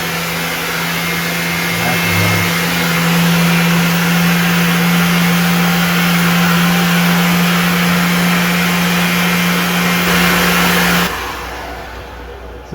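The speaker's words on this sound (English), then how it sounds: "Vacuum cleaner on, vacuum cleaner on," A Flowbee haircut clipper runs with its vacuum cleaner attached, a loud steady whirring motor hum with a sustained low drone that holds for about ten seconds before cutting off near the end.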